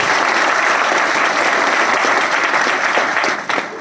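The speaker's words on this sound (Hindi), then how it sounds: "उनके लिए एक बार जोरदार तालियां चाहिए।" Loud, sustained applause from a large audience at a direct selling company event, a thick wash of clapping that stays strong and even before easing off at the very end.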